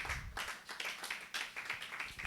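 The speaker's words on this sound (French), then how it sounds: "On acclame pour la parole" A church congregation claps and applauds after a sermon, a dense, steady wash of many hands in a reverberant hall, moderately loud throughout with no talk over it.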